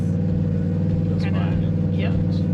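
Off-road vehicle engine held under steady throttle on Baja terrain, a continuous loud low drone with constant rumble throughout, with voices talking over it.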